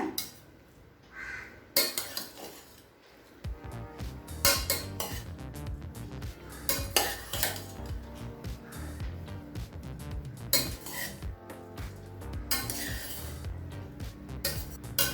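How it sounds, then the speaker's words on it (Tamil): Metal spoon scraping and clinking against a pressure cooker while vegetable pulao with coriander is gently stirred, a steady run of close knocks and scrapes with brief louder clatters. "கொஞ்சமாக கொத்தமல்லி சேர்த்துக்கலாம். மெதுவாக கிளறிக்கலாங்க."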